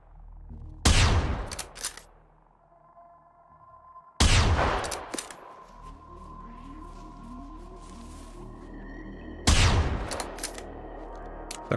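Gunfire in the video game Generation Zero: three loud, sharp shots spaced several seconds apart, each followed by a long ringing reverberant tail with a steady tonal hum between them.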